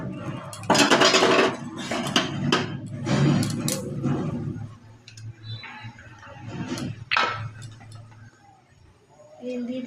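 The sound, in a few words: stirring beans in a pan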